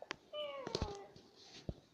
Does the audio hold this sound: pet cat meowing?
yes